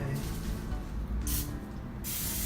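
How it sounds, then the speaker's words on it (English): Two short bursts from an aerosol cooking spray can onto a phyllo dough pizza, a sharp hissing spray around the middle and another near the end, over a low background hum. "we got to add some more cooking spray"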